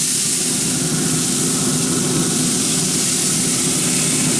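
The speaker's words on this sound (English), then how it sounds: "We're gonna just spray this with some good old Texas water." Water sprayed from a bottle onto BBQ ribs gives a steady, loud hiss of fine mist that runs unbroken and close, with no talking.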